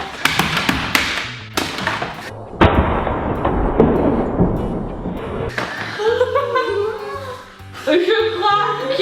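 A Pie Face Cannon toy fires whipped cream in a sharp burst at a home challenge, followed by a rushing noisy spray, with clicks, thumps and voices around it.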